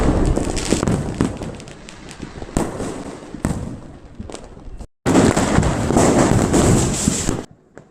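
Diwali firecrackers and fireworks burst at night over Chennai, heard from a rooftop: sharp cracks and booms pop at irregular intervals, giving way to a dense, loud crackling barrage before stopping abruptly.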